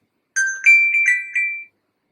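A mobile phone ringtone plays a short run of bright, clean electronic tones, four quick notes rising and holding, loud and isolated against silence before it cuts off.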